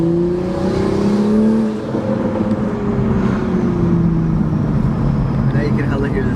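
A 2023 Toyota Supra 3.0 turbo with a manual gearbox and CTS intake under steady acceleration, engine drone rising and falling with a whirring turbo spool heard from inside the cabin, with people talking over it.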